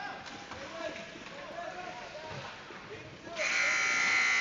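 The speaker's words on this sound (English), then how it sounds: "that's going to be a buzzer for our line change" At an ice hockey game, a line change buzzer blares in a steady, loud electronic tone near the end. Before it comes the murmur of the arena crowd and a commentator speaking.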